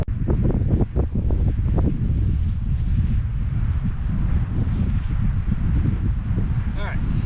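Strong wind roars and buffets the microphone continuously, with low rumbling gusts throughout and a brief voice near the start.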